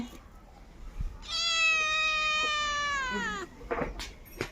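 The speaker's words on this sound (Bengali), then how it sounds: "বিলাই আসছে" A single drawn-out cat meow, loud and close, lasting about two seconds, with faint rustling and clatter before and after.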